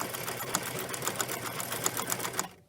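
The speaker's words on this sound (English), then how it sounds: "I usually test sew on an easiest stitch, which is a straight stitch" A Bernina sewing machine runs a straight test stitch in a fast, steady, rhythmic needle chatter lasting a couple of seconds before it stops abruptly, close and clear with no talking.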